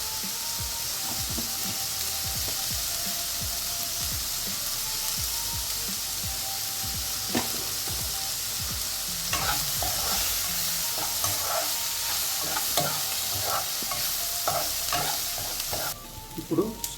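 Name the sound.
mustard seeds and asafoetida sizzling in oil with onions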